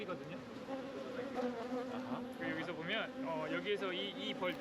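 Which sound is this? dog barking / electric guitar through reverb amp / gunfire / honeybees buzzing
honeybees buzzing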